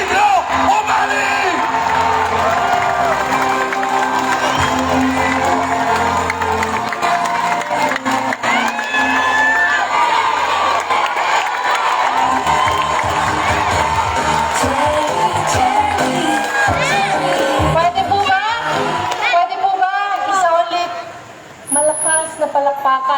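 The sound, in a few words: rally crowd applauding and cheering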